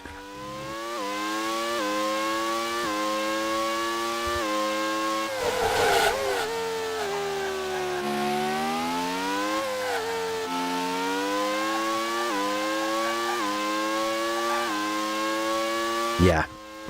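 Ferrari and Honda V12 Formula One cars in the Grand Prix 2 video game scream past, their engine notes climbing through gears and dropping at shifts, loud and continuous, with a brief tire squeal and a burst near the end.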